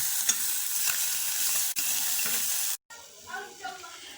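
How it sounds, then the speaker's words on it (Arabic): Calamari drops into already boiling water in a pan, giving a bright, steady hiss and bubbling that cuts off abruptly, followed by a brief voice over quieter kitchen sounds. "ضفنا دابا الكالامار في الماء اللي ديجا مغلي"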